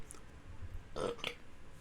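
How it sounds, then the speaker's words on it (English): A short, quiet burp from a streamer, one brief throaty eructation about midway, close to the mic against low room noise, with no talking. "I feel a burp coming"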